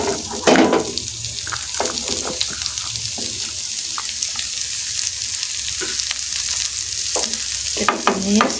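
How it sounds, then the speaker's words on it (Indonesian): Onions sautéed in a pan for an enoki mushroom and shrimp oyster-sauce dish, with a steady sizzle broken by repeated scraping stirs of the utensil against the pan, close and moderately loud, with no talking. "Kita tumis sampai layu dan wangi"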